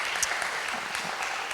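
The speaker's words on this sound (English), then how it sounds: "Let's make a big round of applause, because shift, it did happen." Audience applause at a conference plenary talk, a steady dense wash of clapping that holds at even volume from start to finish with no voices over it.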